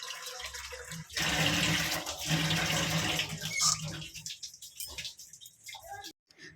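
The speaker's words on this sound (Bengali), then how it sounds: "আমি ভালো করে ছোলাটা ধুয়ে নিই" Chickpeas being washed in water, with a steady splash and rush of running water that swells and fades, close by, while someone talks over part of it.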